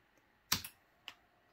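A computer keyboard gets three quick, sharp key presses, two close together and then one more after a short pause, heard alone in a quiet room.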